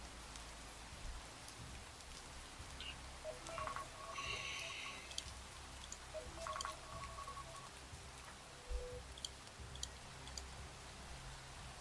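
A phone alarm sounds in short bursts of electronic tones, a few separate beeping patterns over a faint rainy background hiss.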